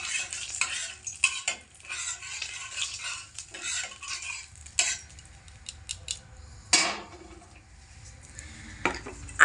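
White oil heating in a wok and being spread around its sides with a spoon, giving a soft low sizzle under repeated metallic scraping and clinking strokes, close and fairly quiet.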